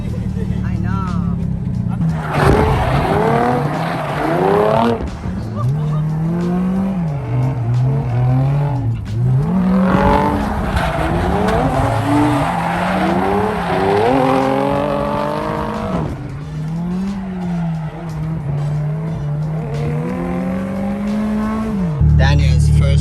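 A Nissan 240SX with an SR20 engine drifting at AVS, its engine roaring and rising and falling in pitch throughout under people talking, with tire squeal mixed into the loud, continuous run.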